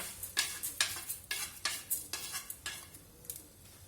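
Chana dal, urad dal and red chillies roast in a pan, stirred with a utensil in a regular rhythm of scraping strokes over a faint, close sizzle, no speech.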